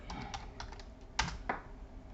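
A word typed on a computer keyboard, a quick run of light plastic key clicks with a couple of firmer taps, close and clear with no talking.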